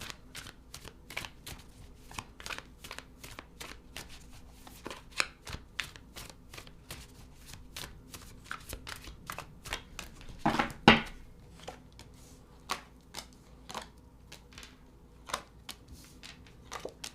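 Tarot cards being shuffled for a reading, a steady run of crisp riffling snaps and soft slides close by, with one louder burst of rapid riffling partway through and no talking.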